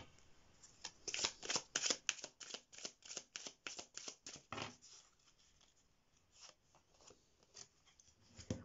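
Tarot cards shuffled and drawn by hand, a quick run of close, crisp riffling flutters followed by sparser slides and taps as cards are pulled, faint and alone.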